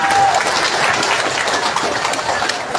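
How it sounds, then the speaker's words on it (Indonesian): A crowd at a political rally in Semporna applauds in a short, dense burst of clapping that stays loud and steady from start to finish. "Tepuk tangan."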